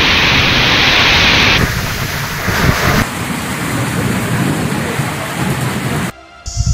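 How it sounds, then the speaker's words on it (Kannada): Heavy pre-monsoon rain during a thunderstorm in Karnataka makes a loud, steady hiss and rush across several abruptly cut segments, dipping briefly near the end, with no voices over it. "ಕರ್ನಾಟಕದಲ್ಲೂ ಮುಂಗಾರು ಪೂರ್ವ ಮಳೆಗೆ ರಾಜ್ಯದ ಹಲವೆಡೆ ಅಲ್ಲೋಲ ಕಲ್ಲೋಲವೇ ಸೃಷ್ಟಿಯಾಗಿದೆ"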